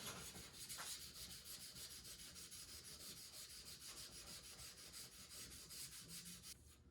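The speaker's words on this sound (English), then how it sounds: "I'm just going to hit them now with a little wet sand." Steady back-and-forth rubbing of wet sanding on classic car trim, a quiet rhythmic scraping that continues evenly for several seconds without speech.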